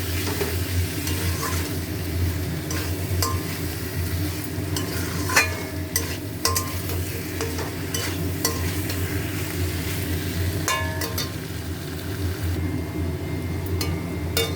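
Mashed eggplant stir-fried in a pan: steady close sizzling frying runs throughout, with repeated scraping stirs and occasional sharp clicks of a spatula against the pan.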